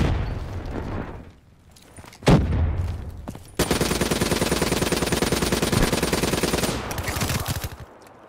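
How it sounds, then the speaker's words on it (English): A grenade blast in a Black Ops 3 multiplayer match, a sharp boom followed by a long, loud stretch of rapid machine-gun fire that rattles steadily, then tapers off near the end. "Incoming grenade!"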